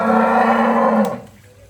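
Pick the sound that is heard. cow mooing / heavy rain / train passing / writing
cow mooing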